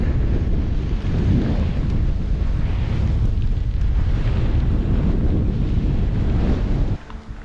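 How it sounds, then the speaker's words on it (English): Strong wind roars across an exposed hilltop on a bike-packing route near Avebury, buffeting the microphone with a loud, continuous broadband rush that drops off abruptly near the end. "It's so bloody windy!"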